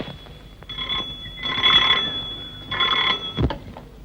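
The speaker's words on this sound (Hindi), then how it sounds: "ये उसी का फोन होगा" An old telephone bell ringing indoors in a vintage Hindi film, two clear bursts of rapid metallic ringing separated by a pause, with a soft thump afterward.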